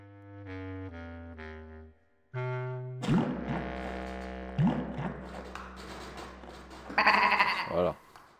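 Video game sheep bleat in a string of short, tonal calls at first, followed by a louder, busier stretch of game sound with more bleats on top.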